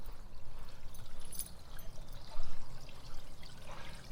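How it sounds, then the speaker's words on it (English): A small stream trickles and gurgles steadily close by, a soft continuous splashing with no voices. "nice little stream"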